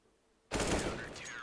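Rifle gunfire in a competitive online shooter match, a sudden loud burst of rapid automatic shots that starts after a brief quiet moment and rattles on steadily to the end.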